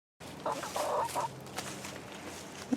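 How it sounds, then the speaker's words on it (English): Backyard chickens by a coop, eating broccoli leaves: a few soft, close clucks come in a short burst near the start, then fade into quiet scratching and faint ambient noise. "Chickens are eating the broccoli leaves."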